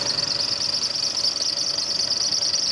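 A car engine runs at a steady idle, a close, even hum with a faint knocking pulse and no voices over it.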